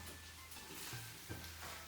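A quiet, steady sizzle of food frying in a pan, continuous low crackling throughout with occasional faint scraping.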